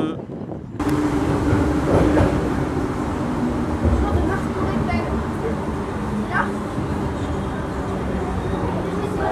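A metro train rumbles steadily along the tracks with a constant roaring drone and faint rattling, heard from inside, with voices murmuring underneath.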